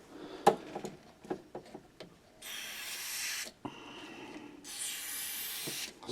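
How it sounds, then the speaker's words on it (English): Contact cleaner sprays into a TEAC A-170S cassette deck in two loud hissing bursts of about a second each, after a run of small clicks and handling knocks from the spray can and deck. "So I'm going to spray some in there."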